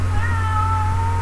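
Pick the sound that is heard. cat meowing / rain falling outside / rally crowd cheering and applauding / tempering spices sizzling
cat meowing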